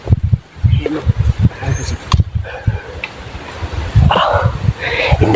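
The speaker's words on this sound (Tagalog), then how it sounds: "Nagdala sila ng aso." A dog brought along by a group of people outdoors barks in short repeated bursts at mid distance, mixed with people talking nearby and rustling ground noise.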